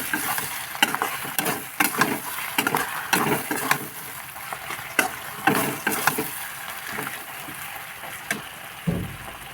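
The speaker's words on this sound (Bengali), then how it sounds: "এবার মশলাটাকে ভালো করে ভেজে নেব।" A spice paste of chili and salt fries and is stirred in a pan for Bengali chicken curry with potatoes. Steady sizzling runs throughout, with repeated sharp scraping strokes of the spoon against the pan and no voices.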